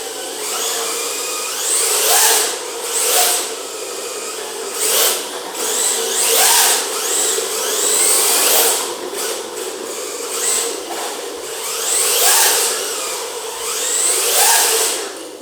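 High-pitched whine of an RC car motor driven by a Hobbywing XD10 Pro ESC, rising and falling in repeated throttle bursts over a steady motor hum, loud and close with no talking.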